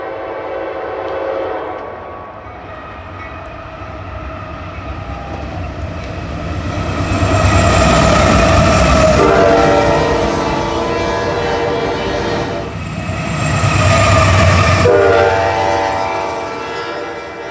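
A Norfolk Southern AC-44 bonnet locomotive, number 4005, a DC-to-AC rebuild, rolls past close by with a rumbling engine, sounding its loud multi-chime horn in several long blasts that swell and fade as it passes.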